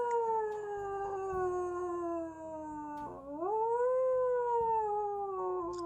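A single long, wavering canine howl sustains for nearly six seconds, dipping in pitch and then rising again, fairly close and clear with faint rumbling in the background.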